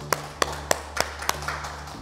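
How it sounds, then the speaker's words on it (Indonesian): A few slow, sparse hand claps ring out in a sequence of about eight separate sharp strikes, fairly faint and alone, as people give an encouraging round of applause for course participants at a gathering. "Boleh sekali lagi kita tepuk tangan."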